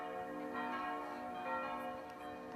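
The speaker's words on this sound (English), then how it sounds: "Here the bells ring from the 16th century Maria Hilf Baroque monastery church." The bells of the 16th-century Maria Hilf Baroque monastery church in Passau ring on in a sustained, overlapping peal, full and resonant, with no voices.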